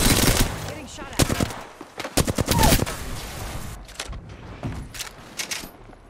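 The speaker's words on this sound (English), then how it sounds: "Getting shot at." Video game gunfire, bursts of loud close shots and rapid automatic volleys mixed with sharp impacts, scattered across a few seconds amid game effects.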